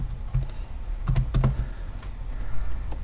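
Fingers type on a computer keyboard in short bursts of close, crisp key clicks, a few quick clusters separated by brief pauses, with no talking.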